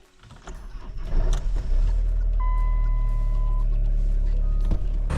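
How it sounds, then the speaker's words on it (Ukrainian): A large crossover's engine fires from cold and settles into a steady, even idle, a low rumble rising over the first second and holding, with a brief beep tone partway through. "Двигун сухий, працює рівно, на холоду запустився"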